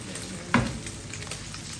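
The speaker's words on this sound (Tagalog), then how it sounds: "Mainit na yung kawali pala. Nauna yung itlog ko sa prito." A brief crackling sizzle of an egg frying in a hot pan, with a soft spatter at the start and a steady hiss after.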